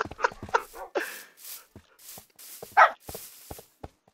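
Several Minecraft dogs (tamed wolves) yipping and barking in the game, quick irregular bursts of short barks and whines tumbling over each other, close and busy, with a louder bark near the end.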